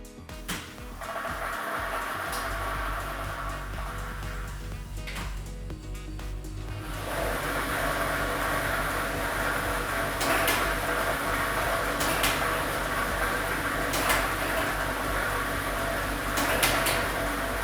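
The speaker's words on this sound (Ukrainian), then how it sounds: "І ми вмикаємо лототрон." A lottery ball drawing machine with set number 1 ball kit starts up with a click and clatter, then settles into a steady whirring hum with faint balls tumbling inside, and no one speaking.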